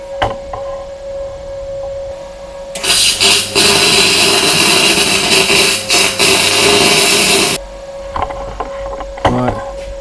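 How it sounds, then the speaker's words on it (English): Welding a steel plate onto a small-case differential from a BMW E46 Compact, giving a loud continuous sizzling crackle for several seconds. A steady electrical hum sits underneath, and brief clicks and clatter come before and after. "So I'll put that plate in now and just weld round."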